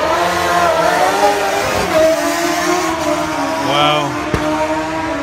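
Drag race cars at Music City Raceway, an engine roar with shifting harmonic tones rising and falling, heard from a distance, with people talking over it and a brief exclamation.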